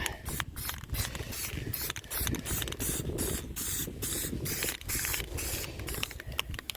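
Engine paint hisses from a spray can onto a 1972 Nova big-block Chevy engine in repeated close bursts, the sharp sprays separated by short gaps and faint clicking.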